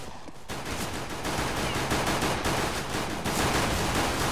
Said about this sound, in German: Alter, wo schießen die denn alle hin?